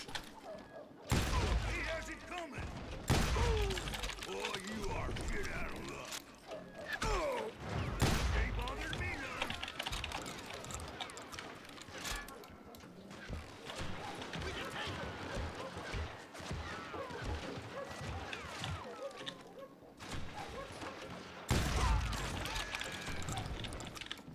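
Gunfire in a Wild West cowboy video game, bursts of shots and volleys scattered through the clip alongside other game effects, with someone talking over much of it.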